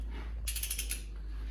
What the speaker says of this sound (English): We're going to torque these down to 65 foot-pounds.